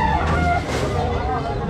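Chickens cluck and crow amid a noisy street commotion, with people talking over a busy roadside background and traffic nearby.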